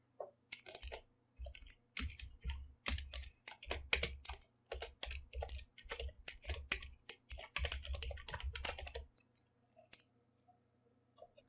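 Rapid bursts of computer keyboard typing, close and clear, clattering in uneven runs for about nine seconds before trailing off into near silence.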